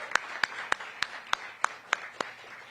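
A handful of sharp, evenly spaced claps at a Black Restaurant Week kickoff event, one person clapping roughly three times a second, faint and close over quiet room tone.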